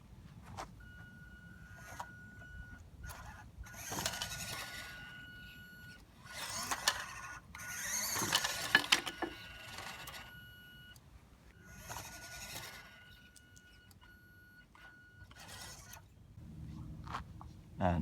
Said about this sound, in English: Let's see how it gets on with that 130 motor.